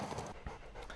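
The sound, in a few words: German shepherd dog panting after jumping a barrier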